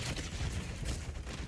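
Heavy incoming fire in Black Ops 7, a brief wash of dense, continuous gunfire and explosive rumble, loud and close.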